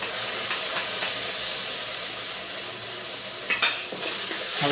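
A spoon stirs sweet corn chevdo with salt and lemon juice in a hot pan, giving a steady, loud sizzling hiss with scraping strokes throughout and a couple of sharper clatters near the end.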